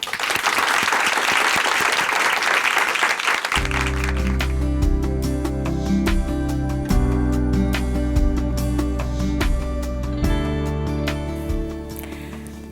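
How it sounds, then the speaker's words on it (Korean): Close, sustained applause greets a speaker stepping up at a Korean church testimony broadcast, then fades as gentle instrumental music takes over for the rest. "박수로 모시겠습니다."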